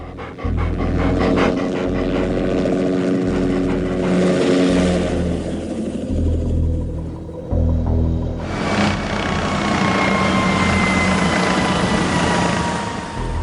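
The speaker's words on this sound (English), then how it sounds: "a helicopter with Norwegian markings buzzes overhead." A helicopter's rotor thumps and drones steadily overhead, loud and close, with the engine whine rising and shifting throughout.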